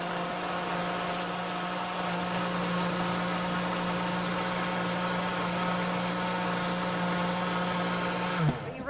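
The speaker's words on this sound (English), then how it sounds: "Then we just let the blender go." A blender mixes flan ingredients with a loud, steady whirring motor hum that runs unbroken and close, then winds down abruptly at the very end.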